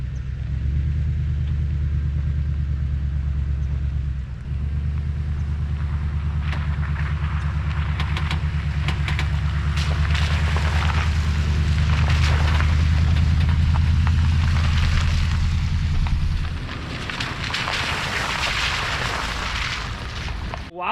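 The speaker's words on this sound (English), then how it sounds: "I'm gonna pull right on out of this little ditch we're in" A vehicle engine rumbles loudly and steadily at close range while pulling out of a ditch, a low droning roar with scraping and rattling rising over it before the engine note drops away near the end.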